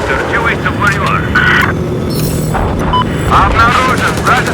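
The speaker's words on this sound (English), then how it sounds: "Spotted a hostile helicopter due east of where you are." A helicopter flies through a Battlefield 4 match, its steady roaring rotor and engine noise filling the whole stretch, with muffled voices speaking over it.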